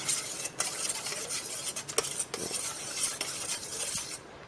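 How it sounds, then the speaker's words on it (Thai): A spoon keeps stirring a cornstarch mixture for Thai pumpkin in syrup, breaking up the lumps. It makes a steady close scraping and swishing against the bowl for several seconds with no voices. "คนให้มันแตกครับ อย่าให้มันมีเป็นเม็ดนะครับ"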